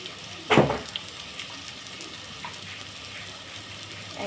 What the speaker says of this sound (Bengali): দিয়ে দিচ্ছি 1 চামচ গোটা জিরা